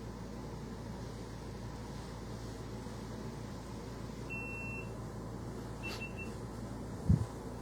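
An electronic device in a town board meeting room gives a faint, thin beep twice, short tones a second or so apart over a low room hum, followed by a soft thump.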